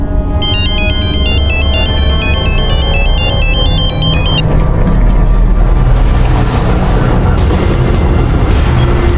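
A mobile phone ringtone plays for an unanswered call, a loud repeating electronic melody over a dense, rumbling background for about four seconds before giving way to other noise.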